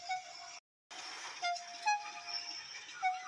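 A steam engine puffing away gives off a steady, hissing chuff with thin whistle-like tones rising and falling over it. The sound drops out briefly near the start and then carries on at a moderate level.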